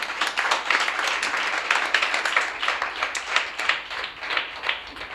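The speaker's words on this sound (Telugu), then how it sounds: "కొట్టో, చప్పట్లు కొట్టో" A church congregation claps at a sermon, a dense steady patter of many hands continuing throughout at moderate volume, with no clear voices over it.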